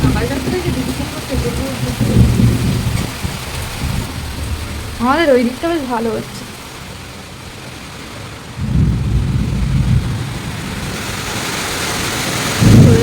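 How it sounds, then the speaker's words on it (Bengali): Heavy afternoon rain pours steadily during a storm as deep rolls of thunder swell and fade in waves, while a person speaks briefly over the downpour. "জোরে জোরে বৃষ্টি হচ্ছে"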